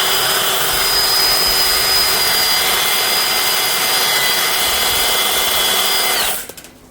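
An Electric Eel drain cleaning cable spinning inside a clogged drain gives a steady loud whirring motor drone with a high whine, running for about six seconds before cutting off abruptly.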